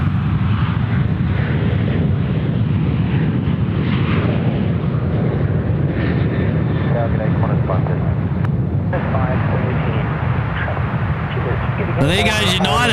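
United airliner taking off at Sydney Airport, a loud, continuous jet engine roar that persists throughout, with people talking over it near the end.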